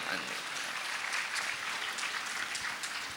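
An audience at a Hindi sermon by a Jain monk claps in a dense, continuous patter of applause, fairly quiet and without pauses.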